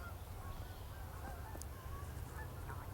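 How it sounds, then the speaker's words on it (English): Geese honk faintly in the distance several times over a snowy rural yard, their calls thin and scattered above a steady low rumble of background noise, with no talk. "I hear some more geese coming."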